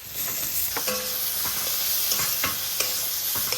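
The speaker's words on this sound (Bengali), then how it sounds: "মশলাটা সুন্দর করে কষাই নিচ্ছি" Masala with tomato, salt and turmeric is stir-fried in a pan over a continuous sizzle. A spoon scrapes and taps the pan in uneven strokes, close and fairly loud, with no voices.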